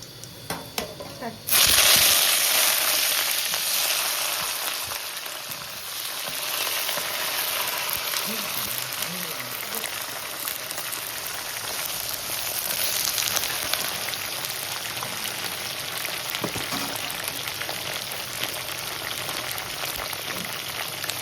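Brinjal pieces frying in hot oil in a pan for a traditional Andhra vankaya pachikaram, a loud steady crackling sizzle that starts abruptly and continues throughout, with faint stirring.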